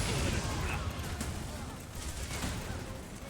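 Cannon fire in the C&C Rivals strategy game, a dense rumbling barrage of booms and blasts running steadily through the whole stretch over a wash of battle noise.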